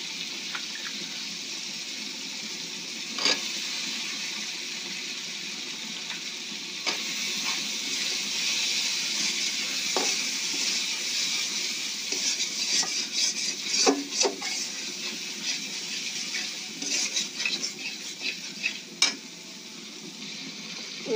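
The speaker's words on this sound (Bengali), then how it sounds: "এবার দিয়ে দেব আলু" Potatoes tipped into hot oil in a home kitchen kitchen pan, steady close sizzle running throughout with scattered scrapes and clinks of stirring, no voices.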